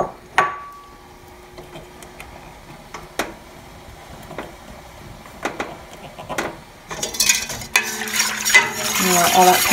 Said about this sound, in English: first thing is to put the pectin in the pomegranate juice in this pot